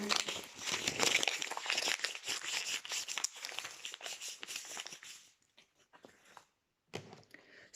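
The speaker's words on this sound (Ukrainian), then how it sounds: "Шуршання паперу." Paper crinkles and rustles up close in busy bursts for several seconds, then gives a few quieter scattered crackles after a brief pause.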